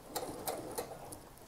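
A sewing machine stitches a seam with colored thread in the bobbin, giving quick, faint mechanical bursts of stitching at a steady close rhythm, with no talking.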